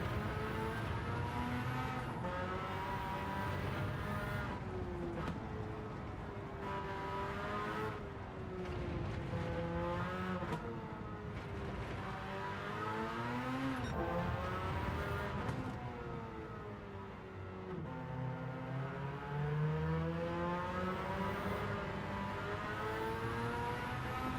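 A race car in a racing video game drives with a continuous engine whine that rises and falls as it shifts and accelerates through turns, loud and steady, with no talking.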